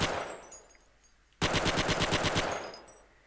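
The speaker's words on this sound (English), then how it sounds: "Behold, the MP40 in its full 514 RPM glory." An MP40 submachine gun fires a single rapid automatic burst on a firing range in the game Forgotten Hope 2, loud and close, at an even, moderate rate of about 514 rounds per minute, lasting nearly two seconds before a short echoing tail.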